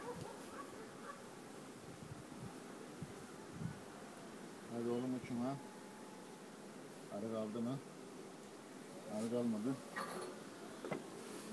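A honeybee drone buzzes in short bursts close by at a beekeeping hive, with faint background rustling and quiet voices underneath.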